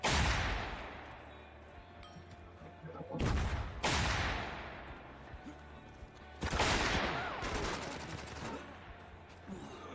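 Bursts of shotgun blasts and submachine-gun fire in the video game Spec Ops: The Line, loud repeated volleys with sharp onsets and short pauses between them.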